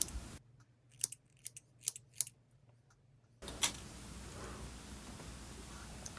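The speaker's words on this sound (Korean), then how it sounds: "여기 곡선 부위에는 가위밥을 줍니다." Scissors snip into the fabric seam allowance along a curve of a sleeveless dress, a series of crisp close cuts in an irregular rhythm against a quiet background, then a hissy room tone with one more snip.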